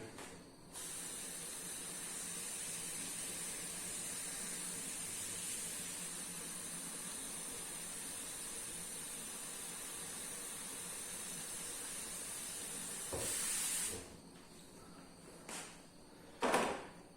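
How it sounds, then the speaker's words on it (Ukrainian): Steam hisses steadily from a pot of cabbage set over heat to steam, a constant close, airy rush that swells briefly near the end, followed by a few knocks and clatters. "і ставимо її пропарювати"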